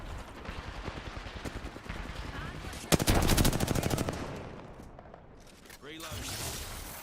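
Rapid bursts of automatic gunfire crackle through a video game shootout, with a dense volley peaking midway, under ongoing speech.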